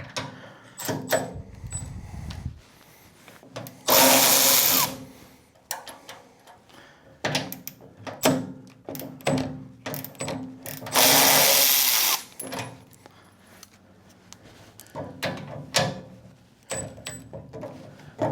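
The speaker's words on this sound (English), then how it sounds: "I'm going to use my M12 ratchet. Got it in reverse." A Milwaukee M12 power ratchet run in reverse on 13 mm bolts of a caster cart buzzes in several short loud bursts, separated by clanks and handling noises of the metal parts.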